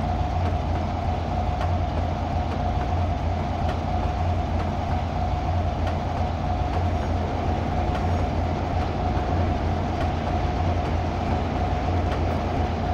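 Train running in the Trainz 3 Android mobile game, a steady rumbling rail drone with a faint repetitive clatter, continuous and even throughout with no talking.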